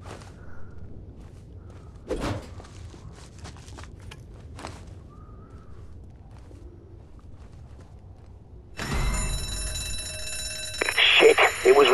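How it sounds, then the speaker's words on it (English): In ZombiU, a loud, harsh alarm bell suddenly starts ringing and keeps clanging continuously after a stretch of quiet thumps and footsteps. "it was rigged to the alarm"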